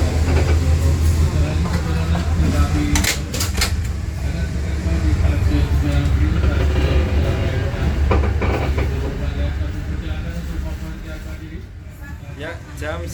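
A cargo train rolls past a station near Surabaya with a steady, loud rumble and rail clatter, swelling around the middle and easing off at the end, while a person talks over it.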